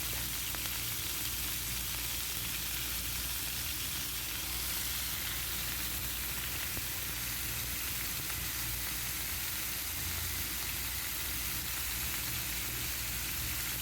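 Chicken frying in hot cooking oil in a pan, a dense, steady sizzle and crackle that stays even throughout, with no talking.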